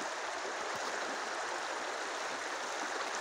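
Water trickling and rushing steadily in a creek after high water, a continuous close hiss of flowing water with no breaks and no voices.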